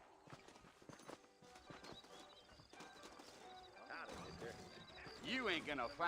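Horses' hooves clip-clop in the Red Dead Redemption video game, a steady walking rhythm that gathers and grows louder toward the end, mixed with game music and a voice talking over the top.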